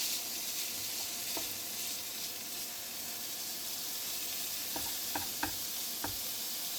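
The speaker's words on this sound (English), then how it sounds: "You have a little bit of sizzle." Ground mince sizzles steadily in a hot pan for a mince stew, broken up with a plastic fish turner, with a few light scraping clicks toward the end and no voices.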